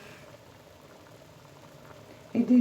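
Turnips simmer in a pot, a low soft bubbling burble that stays quiet and steady, then swells into a louder gurgle at the very end.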